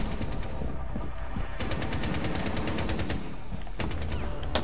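Video-game gunfire rattles in rapid automatic bursts, dense and loud, with several separate volleys close together and no talk over them.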